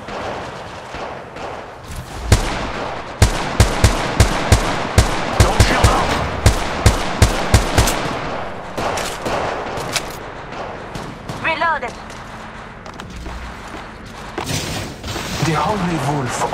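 Gunfire in the Apex Legends battle royale game: a rapid string of sharp, loud shots in a steady rhythm for several seconds, then scattered weapon and mechanical sounds, with game voice prompts over the top.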